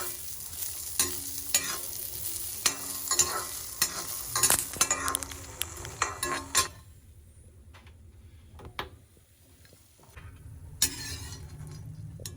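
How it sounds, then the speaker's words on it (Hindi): Food sizzles in hot ghee in a kadhai with repeated stirring clicks and scrapes; the frying hiss is loud for the first half, then drops away leaving sparse taps and knocks. "घी को कढ़ाई में डाला और अब हम इसमें तल लेंगे अच्छे से।"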